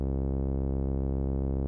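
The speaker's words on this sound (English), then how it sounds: "There's our pure filtered sawtooth wave." Pure filtered sawtooth wave from a Eurorack synthesizer, a steady, loud, buzzy sustained tone with a rich harmonic series, holding one pitch throughout without any talking.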